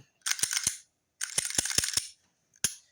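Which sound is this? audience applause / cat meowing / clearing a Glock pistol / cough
clearing a Glock pistol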